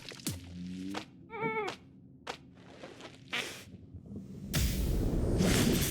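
Sheep bleating in the video game Phobies, a short wavering bleat among light game effects and footsteps, followed by a burst of whooshing noise at the end.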